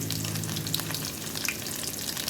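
Dried red chillies sizzle and crackle in hot oil with shallots, tempering for Angamaly mango curry, a steady frying hiss with small pops scattered throughout.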